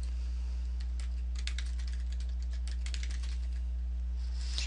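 Quick, irregular keystrokes on a computer keyboard as a password is entered during email account setup, steady clicking throughout over a low constant electrical hum, no voices.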